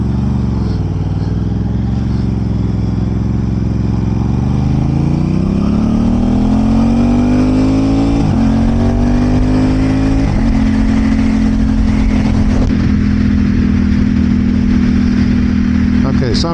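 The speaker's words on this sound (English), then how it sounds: "Yeah, this exhaust sounds pretty nice." A 2026 Aprilia RS 660 sport bike's engine and exhaust rise in pitch through the gears, with a brief dip at each shift before climbing again, loud and close throughout.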